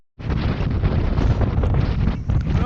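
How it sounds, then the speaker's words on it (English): Strong wind buffeting the microphone on the summit of Moel Siabod, a loud, continuous roaring rush that starts abruptly and gusts unevenly throughout, with no talking. "It's really windy"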